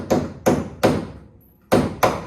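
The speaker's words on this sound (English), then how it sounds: "These emblems have a little tiny retainer. You have to hammer that into the hood." A small emblem retainer is hammered into a Mustang's car hood: five sharp, close metallic taps in an uneven rhythm, with a short pause before the last two, and no voices.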